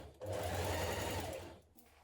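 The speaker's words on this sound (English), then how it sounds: "We're going to stitch down this edge with a 1 cm seam and all along the long edge." A sewing machine stitches a 1 cm seam along the long edge of a spring blouse, a short close whirring run of rapid needle strokes that starts abruptly and slows to a stop.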